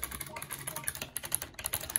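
Rapid clicking keystrokes on an old computer keyboard, an irregular rattle of key presses at close range, with no talk over it.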